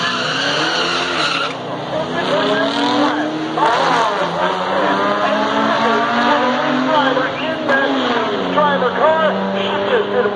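A 1967 or 1968 Camaro runs at a drag race at Irwindale Speedway, with revving engines and squealing tires rising and falling under nearly continuous loud talk.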